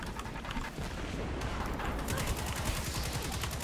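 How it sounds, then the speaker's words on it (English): Enemy gunfire aimed at the player in the video game Destiny 2, a dense continuous rattle of rapid shots at steady loudness throughout, with no talk. "Something else is shooting me."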